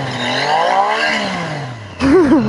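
A Triumph Street Triple RS motorcycle engine revs up and winds down close by, then fires into a sharp, loud burst of rapid throttle blips, alone without talking.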